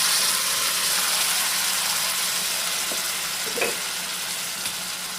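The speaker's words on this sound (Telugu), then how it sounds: "ఇప్పుడు ఉల్లిపాయలు వేగుతున్నాయి" Sliced onions frying in hot oil for a mutton, okra and tomato stew give a steady, even sizzling hiss, close and moderately loud, with a faint clink or stir partway through.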